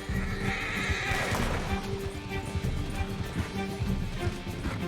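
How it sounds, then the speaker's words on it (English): Horse in Red Dead Redemption 2 neighs with a rising whinny near the middle, while hooves clip-clop steadily throughout over a busy game soundscape. "Come on, horsey."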